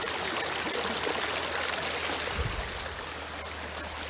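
Brook water rushes steadily over rocky rapids near a waterfall in Truro, a continuous close, full-bodied wash with broad hiss and a low rumble, no voices.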